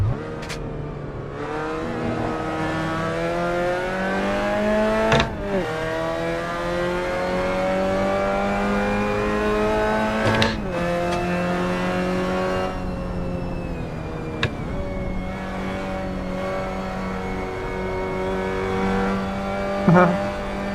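The engine of a Mazda MX-5 Cup race car in the Assetto Corsa game at the Portland circuit revs and drones steadily from onboard, with repeated gear shifts and brief dips as the car climbs through the gears.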